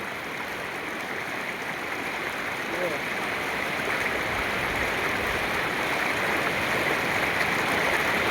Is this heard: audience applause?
no